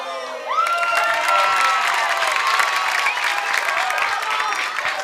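Studio audience on an Indonesian television comedy show bursts into applause with cheers and whoops, a loud sustained crowd roar that starts abruptly and holds steady throughout.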